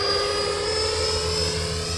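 An electric ducted fan RC Harrier model jet flies by, giving a steady, loud, high-pitched turbine-like whine with a low rumbling undertone that holds nearly constant through the pass.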